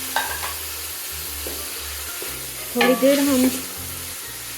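Chicken fries in a pan with garlic and ginger, giving a continuous sizzle with occasional stirring scrapes and a brief spoken phrase over it.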